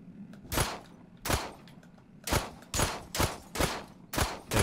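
Gunfire from a gun in the sci-fi survival video game Memories of Mars, about eight sharp shots, first spaced apart and then in a quicker run of evenly spaced blasts, loud and close.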